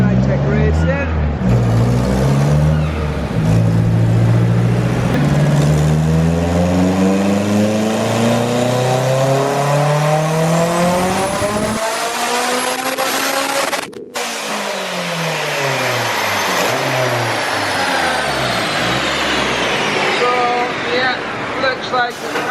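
Honda K20-powered Mazda RX7 on a dyno at a racing shop, the engine revving hard through rising pulls, dropping off and climbing again, very loud and close, with voices faintly underneath.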